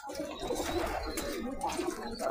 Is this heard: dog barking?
no